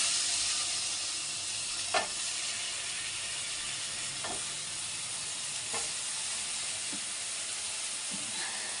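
Eggplant pieces fry in a pan with garam masala for a village-style brinjal gojju: an even, hissing sizzle runs throughout, broken by a few faint clicks of a utensil against the pan.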